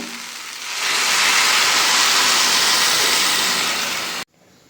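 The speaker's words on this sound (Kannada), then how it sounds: "ಎಣ್ಣೆಲಿ ಒಗ್ಗರಣೆ ಮಾಡಿರೋ ಸಾಕು ನೀರು ಹಾಕ್ತಾ ಇದ್ದೀನಿ" Water is poured into a hot pan of oil tempering for sambar, a loud rising hiss that holds steady for a few seconds, then cuts off abruptly.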